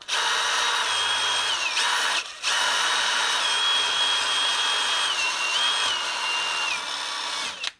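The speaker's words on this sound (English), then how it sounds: "So we're going to use this little wire wheel." A small wire wheel spins at high speed against old engine valve stems from an Allis Chalmers C engine, a loud steady whine scrubbing off rust, briefly stopping once and then running on continuously up close.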